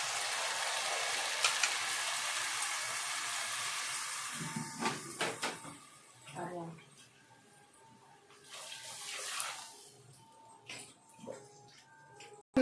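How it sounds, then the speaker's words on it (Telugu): Water poured into a pan of roasted semolina while making upma, a hissing rush that fades into bubbling and sputtering with a few clinks, close by. "నీళ్లు పోస్తున్నానండి నేను దీంట్లో."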